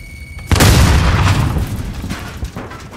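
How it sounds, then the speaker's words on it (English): A cluster strike in Call of Duty: Modern Warfare lands as a loud, close, rumbling explosion that starts suddenly and rolls on as a long, deep blast with smaller booms trailing behind, with no talk over it. "Cluster strike is go for launch."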